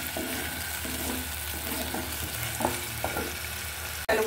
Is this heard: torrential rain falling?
no